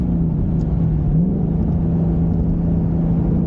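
A 2021 Mustang GT Performance Package V8 with automatic rev matching blips its revs on a shift into fourth, the engine tone rising briefly then settling into a close, steady rumble.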